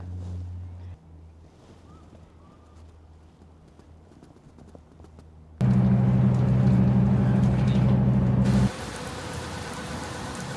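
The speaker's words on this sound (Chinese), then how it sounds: "突然就下大雨了，要来这里躲雨。" Sudden heavy rain patters down steadily in Melbourne in a dense, even hiss of drops, with a loud humming drone rising over it for a few seconds.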